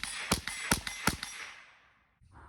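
Three sharp, loud reports from a .22 rifle firing CCI Stinger supersonic ammunition, evenly spaced about four tenths of a second apart. Each crack is followed by a brief outdoor decay before the scene goes quiet.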